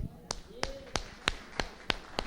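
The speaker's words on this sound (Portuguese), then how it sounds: "Uma salva de palmas ao Senhor" At a church service, the congregation claps in unison, seven or so sharp, evenly spaced claps in a steady rhythm, fairly faint over a quiet room.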